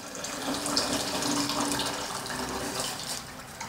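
Broth is poured straight into a pot in a steady splashing stream that runs continuously for several seconds, close and fairly loud.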